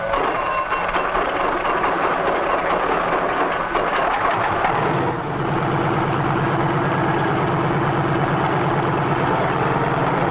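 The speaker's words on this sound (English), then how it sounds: "A self-starter starts the engine, and after a careful warm-up, we're ready to take to the air." A 1953 helicopter engine turns over on its self-starter and settles into a steady, rumbling idle, its tone shifting midway as it warms up. Muffled, band-limited recording.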